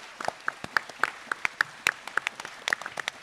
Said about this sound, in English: Let's give them a massive round of applause for supporting this.